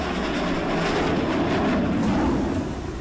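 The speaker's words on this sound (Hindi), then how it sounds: "जेट इंजन की दहाड़ सुनिए। इस गड़गड़ाहट के साथ दोनों मिराज टेक ऑफ करते हैं" Two Mirage 2000 fighter jets take off with a loud, sustained roar and a deep rumble that builds and holds steady before easing slightly at the end.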